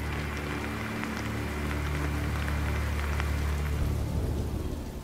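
Steady rain pours over an outdoor archaeological excavation site, a continuous dense hiss with a low rumble beneath it and no voices.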